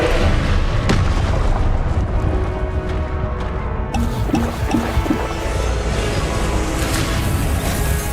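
Confringo fire spell explosions in the Hogwarts Legacy video game on PS5 Pro, a loud, dense mix of booming blasts and rumbling impacts over game sound, with a sharp hit near the start and clustered tonal effects midway.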